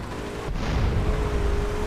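Rhino tanks firing rockets in GTA San Andreas: a dull boom lands early, then a sustained low roar of explosions and rumble carries on loud and dense with no voices over it.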